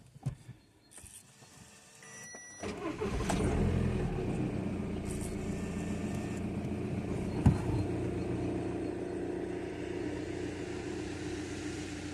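A Renault Scenic's engine cranks and catches after the battery is reconnected following a spring repair, then settles into a steady close idle with a brief rise partway through.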